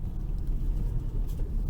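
Low, steady engine and road rumble inside a car on a drive home, a continuous muffled hum with no talking.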